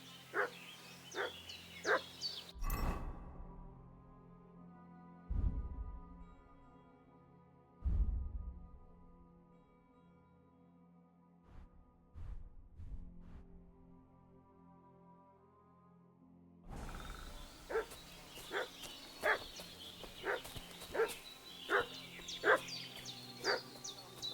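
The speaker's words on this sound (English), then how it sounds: "What's that dog making such a fuss about?" A dog in the video game Kingdom Come Deliverance 2 barks repeatedly in sharp, evenly spaced bursts, with a quieter stretch of scattered barks and low game sounds in the middle.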